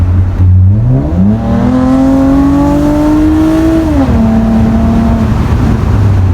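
A 2019 Toyota Avalon with a straight-piped exhaust accelerating hard: a loud, close roar climbing steadily in pitch through the gear, then dropping sharply at a shift and holding a lower drone, no talk.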